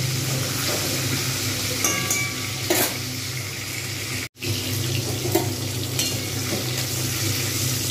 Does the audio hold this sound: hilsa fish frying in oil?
yes